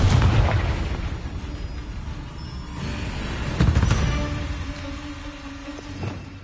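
A Confringo fire spell explodes in the video game Hogwarts Legacy, giving booming bursts and crackling blasts over a dense, rumbling game soundscape, with a sharper impact midway.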